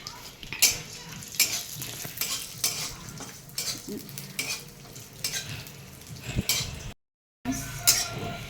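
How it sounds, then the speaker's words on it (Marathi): Raisins and poppy seeds roasting in ghee for Diwali faral, a sizzling fry broken by repeated scraping strokes of a spoon against the pan and light metallic clinks, with a brief dropout near the end. "आता मी हे बेदाणे सगळे हे ते तुपामध्ये भाजून घेते."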